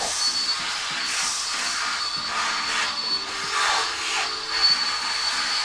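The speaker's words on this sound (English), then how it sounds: "I'll just take the vacuum cleaner." Vacuum cleaner used to clear out a filament extruder while changing over to PEEK: a steady, loud broadband whoosh with a faint motor hum underneath, holding level through the whole stretch with small surges.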